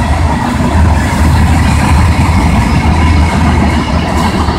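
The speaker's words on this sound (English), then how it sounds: "67W loaded cement train." A heavy loaded cement freight train rumbles steadily past at close range, a continuous low droning roar with grinding rail noise and no pauses.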